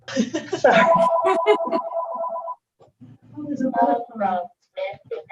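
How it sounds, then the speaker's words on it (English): A telephone in an open public meeting rings with a steady electronic trill for over a second, then people talk briefly afterward. "How can it be ringing when I have it disconnected?"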